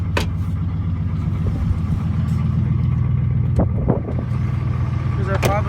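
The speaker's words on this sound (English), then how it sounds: "Because they're probably wondering what that ticking is. That's the lifters" A 2000 Chevy Silverado with glasspacks idles after a cold start, a steady deep engine rumble carrying a fast lifter tick, with a few brief clicks and knocks nearby.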